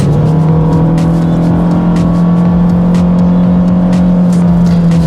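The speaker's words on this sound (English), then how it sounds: "If you're in a higher gear and you mash that throttle, there is a little bit of a delay before it downshifts" A 2022 Kia Stinger GT-Line engine under throttle on a winding road, pulling in a loud, continuous, droning growl that holds a steady pitch, heard close with no talk over it.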